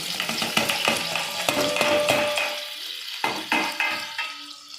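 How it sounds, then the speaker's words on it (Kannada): Chopped onion frying in a pan, a bright crackling sizzle with frequent spatula scrapes and knocks, loud and close, quieting toward the end as the stirring continues; no speech. "ಅದೊಂದು ಸ್ವಲ್ಪ ಇದನ್ನು ಹುರ್ಕೋಬೇಕು. ಅದು ಸ್ವಲ್ಪ ಮೆತ್ತಗೆ ಆಗೋವರೆಗೂ, ಬ್ರೌನ್ ಕಲರ್ ಬರೋವರೆಗೂ ಒಂದು ಸ್ವಲ್ಪ ಹುರ್ಕೋಬೇಕು."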